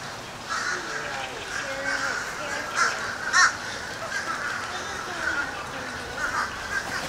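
A seabird calls at a seashore seabird sanctuary in Indian Shores, giving several harsh, cawing cries with a couple of louder bursts over outdoor ambience.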